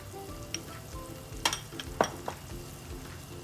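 Chili, coriander and garam masala powders sautéing in a pan for a Kerala-style shrimp roast, giving a low steady sizzle with a few sharp scrapes and taps of the spoon against the pan, no voices.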